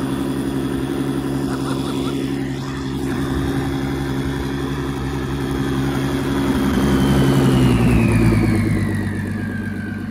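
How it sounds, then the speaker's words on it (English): A Ferrari 550 runs loudly on the road, its deep engine drone steady and resonant, then swelling as the revs rise and fall near the end. "This car's loud."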